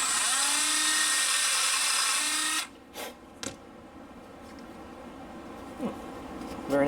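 A Dremel rotary tool sands G10 scales on a Benchmade 550 Griptilian knife, giving a loud, steady high-pitched whine for over two seconds that then cuts off, followed by a few brief grinding touches.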